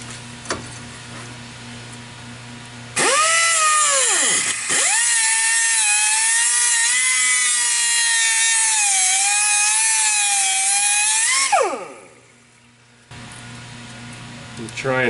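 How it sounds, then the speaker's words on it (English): A cutoff wheel slices through the metal barrel of a line clamp on a Jeep Wrangler JK transmission line, a loud, sustained high whine running about nine seconds with a dip early on, then winding down. "I think I'm going to use a cutoff wheel."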